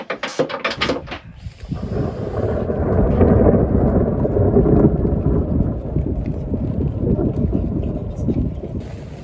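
Thunder rolls outside a sailing boat off the west coast of France. A few sharp knocks come first, then a long, loud, rumbling peal that swells and slowly fades, with wind buffeting close by.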